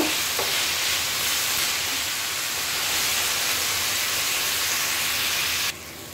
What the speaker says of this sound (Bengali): আমি এখানে এখন ধনেপাতা, পেঁয়াজ, কাঁচামরিচ আর টমেটো দিয়ে দিয়েছি। এটাকে প্রথমে আমি একটু নরম করে ভেজে নেব।